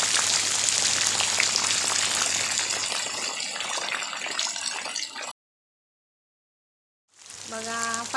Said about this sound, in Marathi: बघा फायनली पाऊस पडलाय